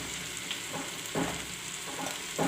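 Washed rice and moong dal going into a hot pot for khichdi, a soft steady sizzle with several short bursts of scraping and rustling as the grains are tipped in and stirred.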